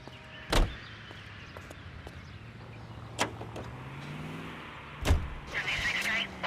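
A car driven in L.A. Noire, a steady low engine hum running under spoken dialogue, with a couple of sharp door-like thumps along the way.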